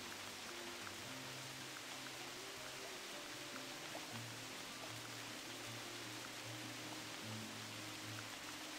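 Steady, faint hiss of rain falling in the video game Ibex, a continuous wash of noise under low droning tones with no break.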